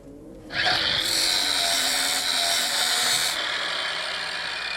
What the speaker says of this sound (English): I will use my angle grinder to get it from there